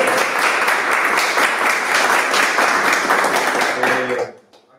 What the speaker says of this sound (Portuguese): Uma salva de palmas para os